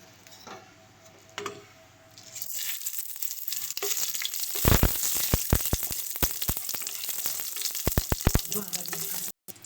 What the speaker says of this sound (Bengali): এবার এর মধ্যে আমরা শুকনো লঙ্কা, তেজপাতা আর জিরে ফোড়ন দেবো।